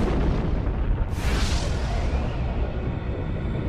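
Supernova explosion rendered as a documentary sound effect: a deep rumbling boom swells suddenly with a bright burst, then rolls on as a long dense roar, loud and without speech.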